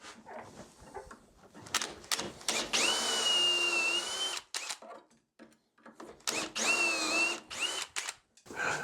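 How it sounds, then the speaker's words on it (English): A power drill guided by a Dowelmax jig bores dowel holes into the end of a solid cherry board, whining steadily in two sustained runs with shorter bursts and pauses between them. "For drilling into the end of the board, I've got my Dowelmax Jig and I've got my drill set to a fairly deep setting."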